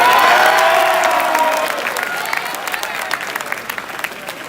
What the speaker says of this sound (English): You want to give him another round of applause?